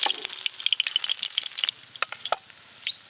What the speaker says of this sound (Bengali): এই পাবদা মাছগুলো সব ভালো করে ভাজা হয়ে গেল